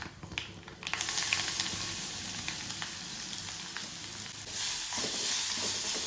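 Cumin seeds, two dried red chillies and curry leaves sizzle in hot oil for rasam, a loud, close, continuous crackle that jumps a little louder near the end as more goes into the pan.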